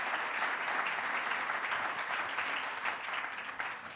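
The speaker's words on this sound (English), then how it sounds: "Let's give her a big round of applause." An audience at a business talk by the LAZ Parking co-founder applauds, dense steady clapping from a large crowd, moderately loud and sustained for several seconds, tapering slightly near the end.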